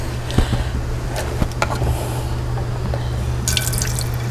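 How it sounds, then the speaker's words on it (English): Fennel is rinsed at a kitchen sink under a running tap, a steady close hiss of flowing water with a few drips and splashes. "So now, gotta rinse my"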